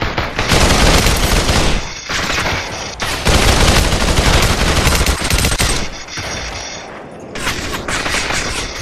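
Loud, dense gunfire from the video game Population: One, with rapid sustained bursts broken by short pauses and close, continuous shots.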